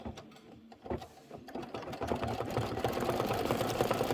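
An embroidery sewing machine stitches a tack-down line and detail on leather for a pie-tin design, its needle running in a fast steady mechanical rattle that builds in loudness and holds close and continuous.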